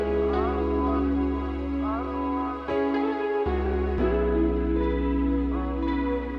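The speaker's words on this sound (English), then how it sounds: "So I added a little bass line," A deep, sustained bass line plays within a 2000s-style R&B beat, loud and steady with note changes across the phrase, layered under melodic instrument tones and looping alone without talk.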